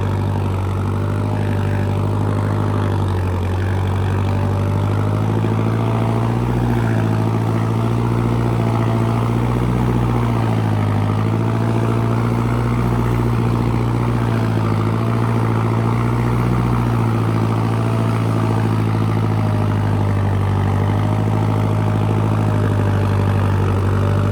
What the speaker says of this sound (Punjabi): ਪੂਰਾ ਮੁਸ਼ਕੋ ਮਸਕੀ ਕਰਿਆ ਹੋਇਆ ਟਰੈਕਟਰ